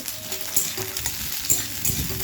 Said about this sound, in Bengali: উচ্ছে আলুটা দেওয়ার পর ভাজবো।